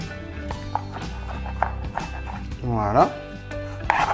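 Knife chopping black olives on a board, a series of quick, close taps in an uneven rhythm, with a person speaking briefly and kitchen clatter in between.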